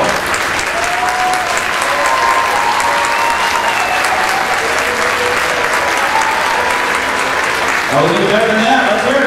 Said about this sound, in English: give all of our parents a big, big round of applause for our help